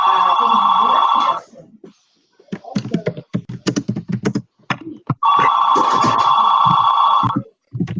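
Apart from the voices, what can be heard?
telephone ringing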